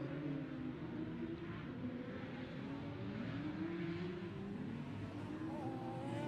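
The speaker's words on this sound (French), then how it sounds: "Savourer le bruit des moteurs V6 dans cette division Maxi" V6 engines of Maxi Tourisme racing cars, including a Peugeot 206, whine and drone at a distance on a circuit at Mauron, overlapping revving tones rising and falling continuously.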